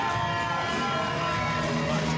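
Spectators at a Kazakhstan versus Azerbaijan WBO boxing event cheer steadily, a dense, moderately loud crowd roar with no standout shouts, continuing evenly throughout.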